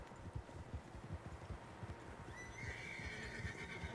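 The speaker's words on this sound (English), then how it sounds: "Horses, quite a few of them." Several horses in the Red Dead Redemption 2 game neigh and whinny nearby, with soft hoof clip-clops beneath, the whole scene fairly quiet.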